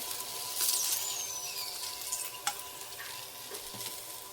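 A masala base frying in oil as it is stirred, with a moderate sizzle broken by scraping strokes of a spoon against the pan and a few sharp clinks.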